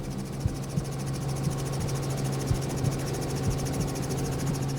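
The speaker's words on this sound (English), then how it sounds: "When herding animals from a helicopter, herding groups is far easier than individuals" A helicopter herding painted dogs gives off a steady, loud rotor drone with a pulsing beat, joined by a continuous high insect-like buzz and periodic soft thumps.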